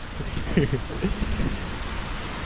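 Steady rain falls outdoors during a southern Thai monsoon shower, a constant close hiss of drops on surfaces, with a few brief voices murmuring underneath.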